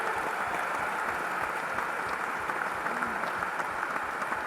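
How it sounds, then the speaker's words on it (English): A large crowd at Symphony Hall in Boston applauds Doug Flutie during a 2006 recognition, a steady, dense wash of clapping that holds at an even level throughout with no voices over it. "How about a round of applause for Doug?"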